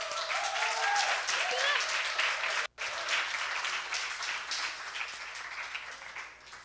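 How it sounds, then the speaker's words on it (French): An audience bursts into sustained, lively applause, with one momentary break before the clapping resumes and gradually thins out. "Applaudissez nos jeunes, on les aime."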